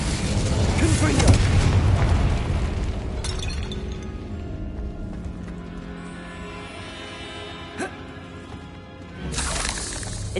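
The Confringo explosive spell in Hogwarts Legacy bursts with a loud booming blast that shatters and crumbles, then decays into rumbling debris, followed by a sharp crack and another burst near the end.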